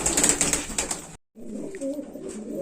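Kaldom pigeon squabs coo in a steady low murmur, close and fairly loud, with a brief silent break midway before the soft cooing resumes.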